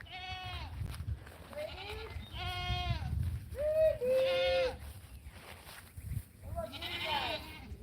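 Goats bleat repeatedly on a farm on a rainy day, several loud wavering calls close by with short pauses between them, over a low rumble of background noise.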